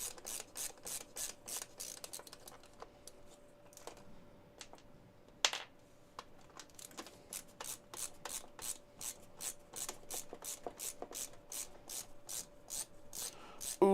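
Long jack screws being unscrewed from computer connectors, a steady run of sharp, evenly spaced ratcheting clicks up close, pausing briefly partway through before a fast regular series resumes.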